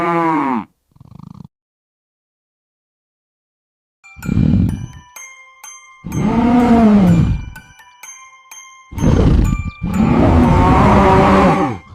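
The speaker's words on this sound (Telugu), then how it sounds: "4 ఆవులు 4 వైపులా విడివిడిగా గడ్డి మేయటానికి వెళ్ళాయి." Several cows moo in separate long, drawn-out calls spread across a grazing scene, with short pauses between them and some overlap near the end. The calls are loud and close, and a cow's low bellow opens the sequence.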